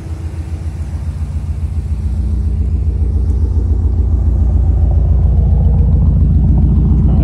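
A Subaru WRX STI pulling away from a standstill, its engine rumbling low and close, rising steadily in loudness as it takes off and then holding a strong, even drone.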